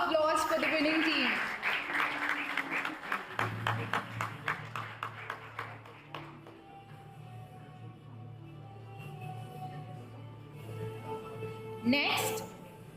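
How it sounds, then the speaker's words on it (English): Audience applause at an AI innovation awards gala, a dense burst of clapping that thins into scattered claps after a few seconds, then fades under a low hum and faint voices. "Can we have a loud applause for the winning team?"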